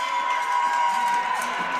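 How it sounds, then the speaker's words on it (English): A larger St. Cloud State home crowd cheers at the 2022 NSIC volleyball championship match, a sustained, dense roar of voices and whoops that holds steady throughout. "There's a larger St. Cloud crowd here, which I am impressed with."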